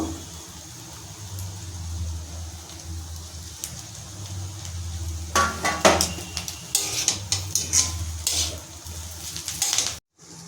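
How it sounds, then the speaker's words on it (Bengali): Chicken, vegetables and boiled noodles tossed together in a pan, starting as a low background hum, then a burst of close metallic clinks and scrapes from about halfway on, with no talking. "আমি এবার সেদ্ধ নুডলগুলো মিশিয়ে নেব"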